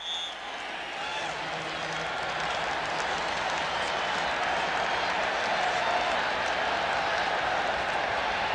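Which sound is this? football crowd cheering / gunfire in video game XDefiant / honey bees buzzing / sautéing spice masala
football crowd cheering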